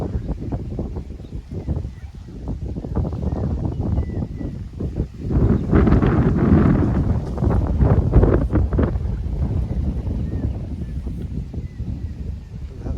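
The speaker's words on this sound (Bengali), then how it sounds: "প্রচণ্ড হাওয়া মাঠে" Strong wind gusting across an open village field during the Remal storm, a steady rumbling roar through the microphone that surges louder midway, with no talk over it.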